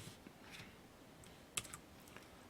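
Keys on a computer keyboard are pressed during work in the Hangul 2020 word processor: a handful of soft, scattered clicks, one sharper tap in the middle, quiet and close with no talking.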